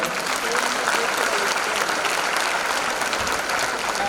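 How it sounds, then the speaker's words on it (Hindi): Audience applause at a women achievers awards ceremony, a steady dense wash of clapping from a large crowd lasting the whole span, with faint voices mixed in. "तालियां हो जाए"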